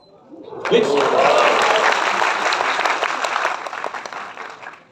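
A seminar audience in Ahmedabad applauding loudly and continuously, dense clapping that swells quickly and tapers slightly toward the end.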